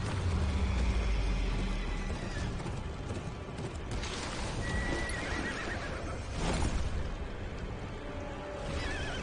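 Horses whinny and neigh amid a loud, chaotic outdoor scene, their calls rising over constant hoof clatter and a heavy rumbling background.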